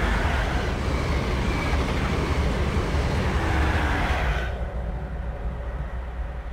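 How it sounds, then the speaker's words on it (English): Train passing near the River Tummel in Scotland: a loud, steady broadband rumble that drops away abruptly near the end, leaving a quieter background. "don't know if you saw the train"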